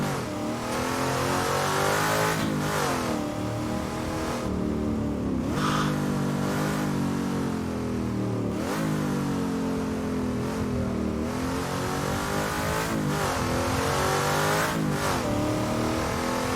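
A racing car engine in a video game at Bathurst revs hard and loud throughout, rising and falling through gear changes with a continuous harsh mid-range drone, close and alone.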